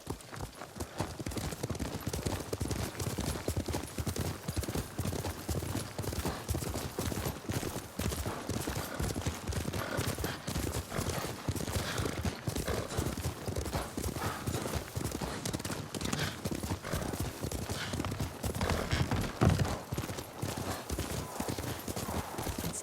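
Horse hooves clip-clop steadily as a horse is ridden in the video game Ghost of Tsushima, an even, continuous rhythm of close hoof strikes that runs throughout, with occasional faint voices under it.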